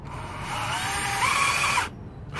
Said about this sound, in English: get a screw, use some body weight and screw the pieces together.